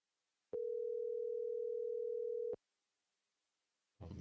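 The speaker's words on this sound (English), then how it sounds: "Let's randomly call this person. Let's see if they answer." A single steady telephone tone sounds for about two seconds during a random outgoing phone call, then cuts off, followed by a brief burst of noise after a short silence.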